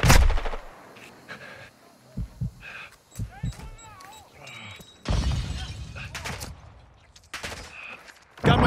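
Bursts of gunfire in Modern Warfare 2, sharp clustered shots recurring across the clip among game effects, with several loud dense volleys and a voice speaking briefly between them.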